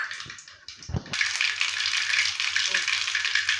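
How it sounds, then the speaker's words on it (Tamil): Mustard seeds splutter in hot oil in a kadai, a loud, dense crackling sizzle that starts abruptly after about a second of a few light clatters and then continues steadily close by. "கடுகு வெடிச்சிருச்சு"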